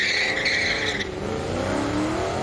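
Twin-turbo diesel V10 Camaro drag racing, a loud close engine roar with a high whine that cuts off abruptly, followed by a deep rising drone as it pulls away.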